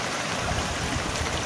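Monsoon floodwater flows around a village near Bhuj in Kutch, Gujarat, as a steady, close, full-bodied rush of water with no pauses and no voices.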